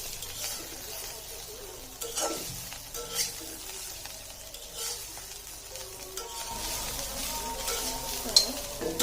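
Bitter gourd (karela) and potato stir-frying in a pan over a moderate flame, a steady sizzle broken by a spatula scraping and stirring at intervals, with occasional light clinks, close and continuous, no talking.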